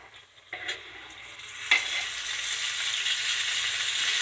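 Onions and tomato drop into hot oil in a pan and start frying, a sudden sizzle that swells into a steady, bright hiss and keeps building, with a sharper crackle as more goes in; no talking.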